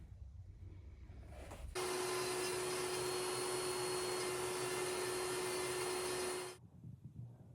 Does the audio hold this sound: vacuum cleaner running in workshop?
yes